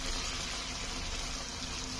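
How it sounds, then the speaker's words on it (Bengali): Pitha dough fries in hot oil with a continuous, fairly quiet sizzling hiss that stays even from start to finish. "এখন সেগুলো তেলে দিয়ে সুন্দর করে ভেজে ফেলবো"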